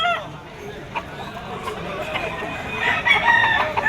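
At a pet market in Malabon, chickens cluck and call among a yellow-legged rooster, with short bird cries rising over someone talking close by and market chatter behind.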